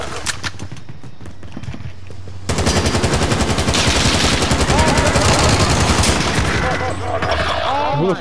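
Gunfire in Call of Duty: Modern Warfare: quieter shooting at first, then loud, rapid automatic bursts of shots crackling densely close by for several seconds before easing off slightly near the end.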